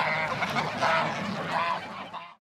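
Geese honk loudly and continuously on a goose farm, several overlapping calls close by, with no speech.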